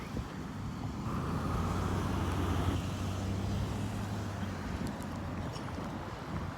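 A car drives by on a road, its engine rumble swelling and then fading against faint wind noise, heard at a moderate distance with no talking.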